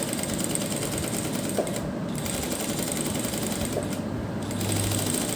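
Sewing machine stitching along the cut edge of a fabric neckline, a fast steady mechanical chatter running continuously at moderate volume.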